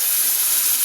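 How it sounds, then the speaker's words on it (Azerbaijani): Meat broth poured into a hot pan while cooking Chinese-style spaghetti, a steady close hiss and sizzle of liquid hitting hot metal that holds evenly throughout, with no talk. "Deməli gördüyünüz ətli bulyonumuzu üzərinə əlavə edirik"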